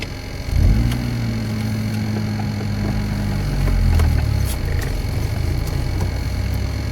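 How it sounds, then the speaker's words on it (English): A Volvo 240 car engine hums steadily from inside the cabin while driving, a low, continuous drone that swells slightly as it accelerates, with faint rattles and road noise. "You can hear the car."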